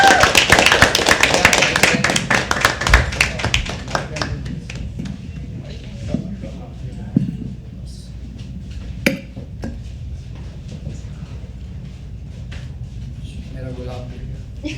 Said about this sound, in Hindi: तालियां तालियां जतिन के लिए।